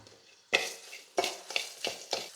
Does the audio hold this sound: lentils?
yes